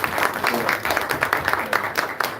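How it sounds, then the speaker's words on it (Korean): Brief burst of audience applause at a Korean church revival gathering, with many hands clapping in a dense patter and a voice speaking over it. "예, 박수 한번 하겠습니다."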